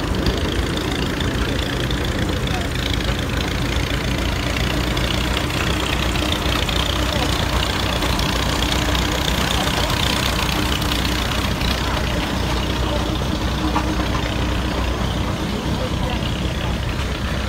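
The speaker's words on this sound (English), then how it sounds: "I just love steam engines." A steam traction engine runs in the Rollag threshing show parade, a steady broadband mechanical rumble with low engine drone held throughout, mixed with outdoor crowd noise and nearby talk.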